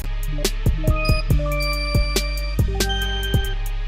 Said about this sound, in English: Let's try the DX7.